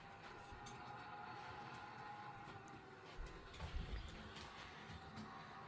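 A Bachmann Class 70 model locomotive in Colas Rail livery, no. 70811, runs steadily along model track with a continuous low whirring rumble and small clicks over rail joints, close by.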